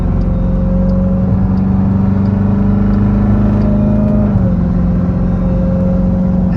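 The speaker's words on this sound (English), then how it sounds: "Get the popcorn, you hear that whine?" Jeep Trackhawk engine running steadily with a sustained whine over a low rumble, heard from inside the vehicle, loud and continuous with a slight pitch drop near the end.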